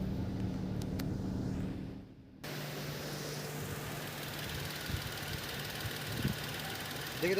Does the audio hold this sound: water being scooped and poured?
no